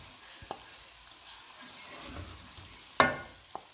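Kachnar qeema, minced meat with bauhinia buds, sizzling steadily in a pan as a soft continuous hiss, broken by a few sharp clinks of a utensil against the pan near the start and toward the end.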